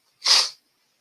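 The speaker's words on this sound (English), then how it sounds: "We are sneezing." A single short, sharp sneeze, breathy and hissing, then silence.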